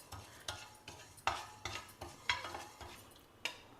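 Hand-pounded rice being stirred while it dry-roasts in a pan, making a series of quick scraping strokes against the metal at a steady, repeated rhythm with no talking.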